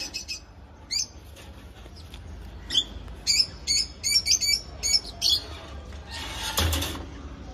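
A six-month-old female lutino red-eye lovebird gives sharp, high chirps, first scattered and then in a quick run of rapid calls, close and loud, ending in a brief rustle of wings.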